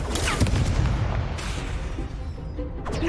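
A Confringo spell explosion in the Hogwarts Legacy video game, heavy booming blasts and rumbling that fill the whole moment, loud and close with no talking.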